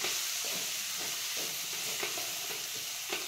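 Filling for vada pav being stirred and sautéed in a pan, a steady hiss of frying with soft periodic scrapes of the spoon, heard close and alone without speech.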